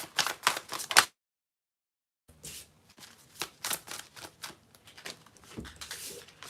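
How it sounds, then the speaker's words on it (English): A deck of tarot cards is shuffled close by in quick riffling bursts, first a short flurry, then a pause of silence, then a longer run of crisp flicks and taps. "So I'm going to do one more shuffle, get a few more cards"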